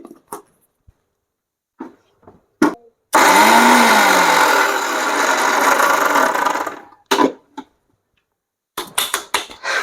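Kitchen mixer grinder pulverising garam masala into fine powder, a loud harsh whine lasting about four seconds, followed by short bursts of jar clatter and brief pulses.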